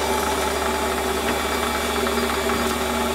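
A drill bit bores deep into aluminium for a fire piston part, a loud, steady motor whine with tonal hum and faint rattling vibration, no talk.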